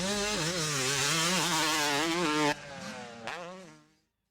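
A dirt bike motorcycle engine revs hard and loud while accelerating out of a rutted corner, its pitch wavering and climbing, then it drops off abruptly, blips once more and fades away.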